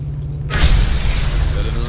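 A sniper rifle in the video game Mad Max fires one sudden, loud, booming shot. A long rumbling tail follows, with a voice faintly underneath.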